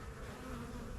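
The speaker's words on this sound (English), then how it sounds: "Huge bumblebee just hanging out." A large bumblebee buzzes near beehives on a farm, producing a steady low droning hum that is faint but continuous for a brief moment.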